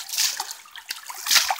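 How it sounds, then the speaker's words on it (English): A shovel splashes through shallow creek water and sand while hunting for arrowheads, giving a few close, uneven bursts of sloshing and trickling water, loudest near the start and again toward the end. "just taking my shovel, just doing that right there, splashing along"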